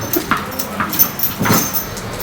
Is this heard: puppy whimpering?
yes